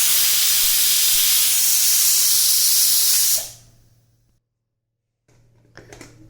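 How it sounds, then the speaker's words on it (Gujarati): A pressure cooker cooking khichdi with green garlic lets out one long, loud steam hiss that cuts off abruptly, leaving near silence and a few faint kitchen clinks. "હવે આપણે કુકરને બંધ કરીને 3 થી 4 વિસલ વગાડશું."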